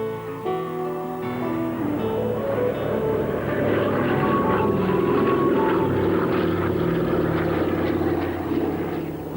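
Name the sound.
veteran cargo plane flying overhead, over 40 years old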